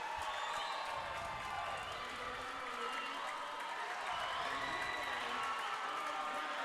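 Crowd at a championship swimming final cheering and applauding, a dense, steady wash of clapping and shouts heard from a distance, with a commentator talking over it.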